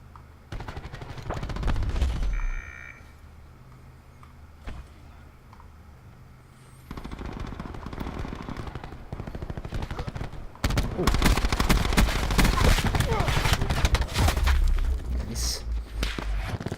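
KAP 45 submachine gun bursts in the Black Ops 4 shooter, rapid automatic fire in loud stretches separated by quieter pauses, with footsteps and a dense, continuous volley late on.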